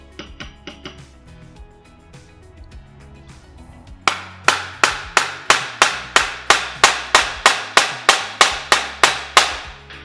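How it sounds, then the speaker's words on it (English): A hammer drives a pin through wood into the bore of a rear axle. Light taps come first, then about seventeen loud, evenly spaced ringing metallic blows, close to the microphone, with no talking. "Takes a lot of hammering, and it's going to come out the other side."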